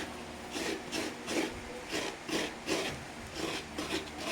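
Coconut flesh being grated by hand with a scraper makes rhythmic rasping strokes, about eight scrapes in a steady back-and-forth pattern, close up and with no talk.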